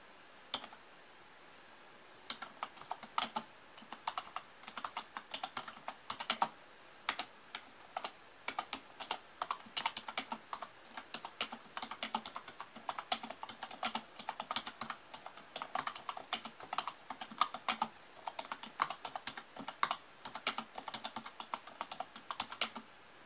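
Typing an email on a computer keyboard in an office, a long, steady stream of close, soft key clicks that runs on with no talking.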